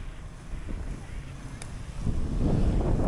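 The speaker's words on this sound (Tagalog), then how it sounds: "Sobrang lakas din ng hangin baka mamaya mahirapan tayo sumilong." Strong typhoon wind roars steadily across the microphone during a motorcycle ride through Typhoon Kristine, swelling louder and more turbulent toward the end.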